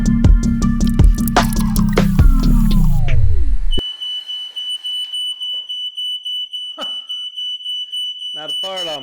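A smoke alarm sounds a steady high electronic tone right after heat gun use during screen printing, first beneath a loud, sweeping whine and clatter, then ringing on alone with faint shuffles and a short burst near the end.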